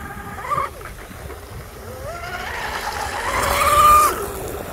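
A wooden RC outrigger boat runs on open water with a Hydra XL setup, its high motor whine rising and falling at middle distance as it passes, fairly loud throughout.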